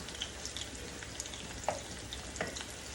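Fish masala sautés in a pan with a soft, even sizzle and occasional light spatula taps, fairly quiet and continuous with no talking.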